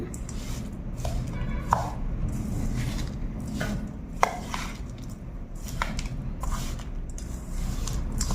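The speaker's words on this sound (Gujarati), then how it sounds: "અને હવે આપણે આ બધા કેરીના પીસીસ આમાં નાખી દઈએ હવે આને પણ મિક્સ કરીએ" Mango pieces are being mixed into a sweet jaggery pickle in a pot, with close, uneven squelching and scraping strokes repeating over a dull low rumble. A few sharper clinks of the spoon against the vessel stand out, and no one speaks.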